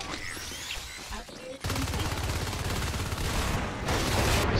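Rapid pistol fire in the video game Natural Selection 2 during a Sweden versus France tournament match, dense continuous shots that grow louder toward the end, under excited commentary.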